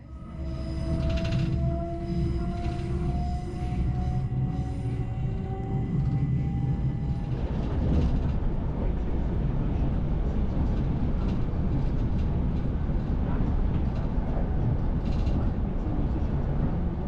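Inside a UK train on the route toward Heathrow, a steady low rumble of rolling wheels and carriage noise fills the cabin, with a rising whine early on and a rougher rattle later, no talk.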